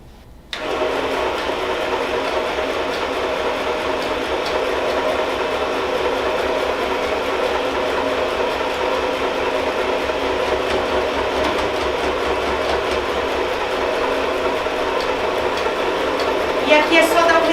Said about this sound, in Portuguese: eu vou passar uma costura reta aqui em cima, nessa parte da alça, unindo um tecido com o outro